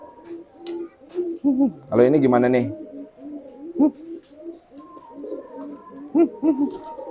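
A pigeon cooing close by, one strong throaty coo in the middle with softer calls around it, under someone speaking casually.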